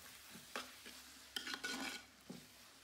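Crab roast masala with pepper and garam masala powder stirred in a pan, a few close scraping and clinking spoon strokes over a soft sizzle, with no voices.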